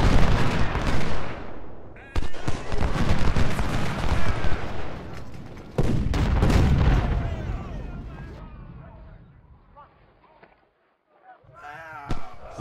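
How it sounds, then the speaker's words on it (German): Musket volleys crackle in Ultimate General: Civil War, loud rolling bursts of fire that fade and return, then dwindle toward near quiet, with a voice talking at points. "Ah, es war nur ein Schuss."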